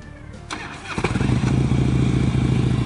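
A 2006 Harley-Davidson Softail Deluxe motorcycle is started, with a starter whir and a solid thump as it catches, then settles into a loud, steady, lumpy idle close by.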